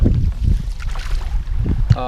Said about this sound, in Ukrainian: Вже погода вітряна, ви чуєте, цей вітер